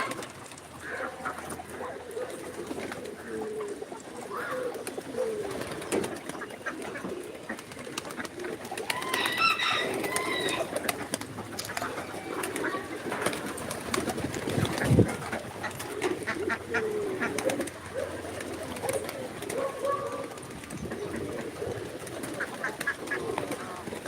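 Pigeons cooing repeatedly nearby, soft throaty calls over a background of rustling and outdoor noise.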